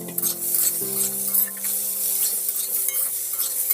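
Peas and tomatoes frying in a pan for a Bengali-style dalia khichdi, with a steady loud sizzle and stirring scrapes throughout, no voices.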